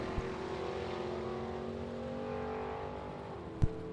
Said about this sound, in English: the 41 Willys Coupe with a Hemi under the hood